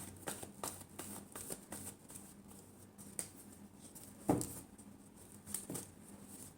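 Tarot cards being shuffled by hand: a quiet series of crisp riffling and flapping bursts in an irregular rhythm, close up, with no talking.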